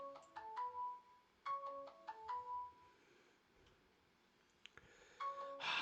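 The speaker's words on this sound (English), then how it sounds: "The amount of times my phone has gone off during this recording, that is the third time" A mobile phone rings with a bright repeating chime pattern, three quick bursts of tones, a pause, then a fainter return and a louder alert at the end.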